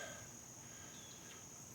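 Quiet steady trilling of crickets outdoors in the morning, a continuous high chirring with faint background ambience.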